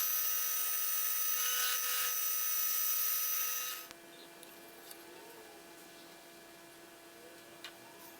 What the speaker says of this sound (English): I'm just going to slice that down straight down the centre